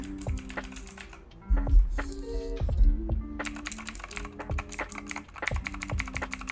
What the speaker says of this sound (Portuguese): eu vou já agora tá também digitando com os blue